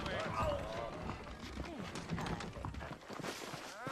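Rhythmic hoofbeats of horses galloping in the video game Red Dead Redemption on Xbox 360, mixed with game sound effects and a voice talking over them.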